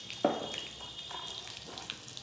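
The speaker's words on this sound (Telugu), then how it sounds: "ఆవాలు చిటపట్లాడాక కరివేపాకు, ఇంగువ, తర్వాత 4 అంటే 4 వెల్లుల్లిపాయలు వేస్తానండి" Mustard seeds, curry leaves, asafoetida and garlic tempering in hot oil for cauliflower pickle, a sharp burst of sizzling as the ingredients hit the pan, then a softer crackle and faint spatters continuing close by.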